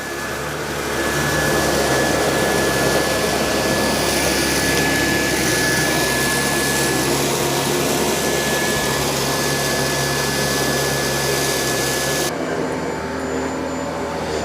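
An iRobot Roomba j7 robot vacuum cleans carpet with a loud, continuous suction whine and motor drone that cuts off abruptly near the end, with no speech.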